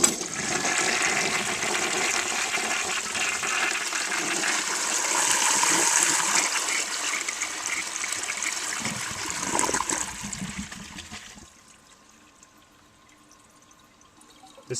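Water pours from the front rim jets of a 1933 Standard Modernus toilet during a close-up flush, a steady rushing stream for about ten seconds that fades to a quiet trickle and falls nearly silent.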